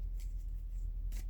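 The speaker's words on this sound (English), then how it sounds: "I'm going to shuffle them again" Tarot cards are shuffled by hand in two brief riffling bursts separated by a quiet pause, close and soft, with no speech.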